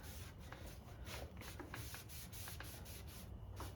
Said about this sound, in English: Clean, wet rag and wipe back all the excess.